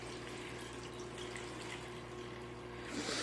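Water draining out of a washer and spin dryer combo, a steady low gushing and trickling flow that swells slightly near the end, close and continuous with no voices.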